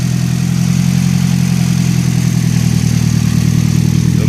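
An SR20DET engine idles in a 1989 Nissan 240SX with worn motor mounts, a loud, steady low rumble held close and unbroken throughout.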